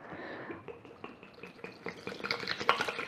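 Almond powder and water pour into a blender, making soft trickling, dripping and splashing sounds that build louder toward the end, with light knocks against the jar.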